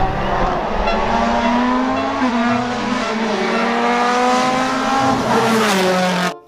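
A toy race car whirs steadily with a motor-like hum that holds close and loud throughout, its pitch wavering slightly, with no talking over it.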